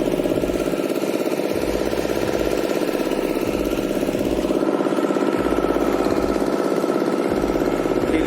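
A boat engine drones steadily up close as the boat moves slowly across Chilika lake near Satapada, Odisha, a continuous low, even throb with no voices.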